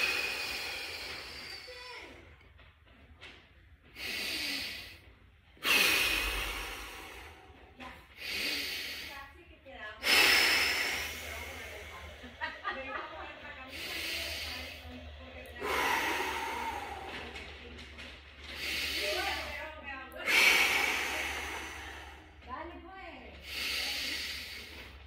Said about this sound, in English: So from this position, I'm going to start my breathing.